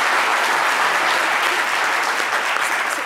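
Dense, sustained applause from a TV studio audience on a French midday talk show fills the space evenly, loud and unbroken.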